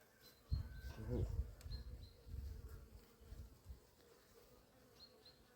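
A honey bee colony clustered inside a hive gives off a close, low buzzing hum that swells and fades, with a few brief higher tones over it.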